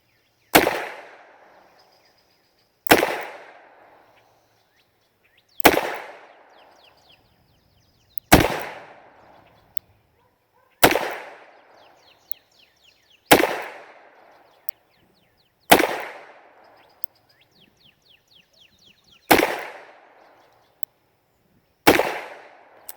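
A Taurus Tracker convertible .22 revolver fires nine sharp, loud single shots at a target, spaced roughly two to three seconds apart, each crack decaying quickly into near silence.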